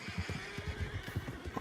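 Horses in the Western game RedM, with low, rhythmic pulsing throughout that could be whinnying or snorting mixed with hooves, moderately loud and close, with no talk.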